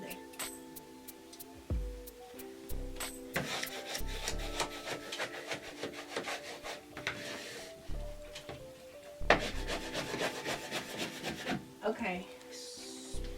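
A wallpaper smoother rubs and scrapes peel-and-stick NuWallpaper against a wall in a small room, a busy run of close, soft rasping strokes and light knocks.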